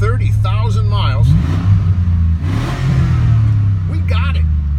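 A 1999 Chevy 5.3 LS V8 engine with 130,000 miles runs loud and close, its steady rumble rising into several revs, while someone talks over it.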